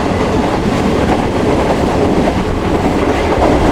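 A train passes close by at Mirpur Mathelo, Pakistan, with a loud, continuous roar of rolling wheels and faint clickety-clack running through the whole stretch, heard alone without voices.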